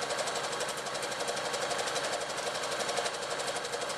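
Sewing machine stitching the seams around the lining of a fabric tea cosy, a continuous fast, even mechanical whirr heard close up with no pauses.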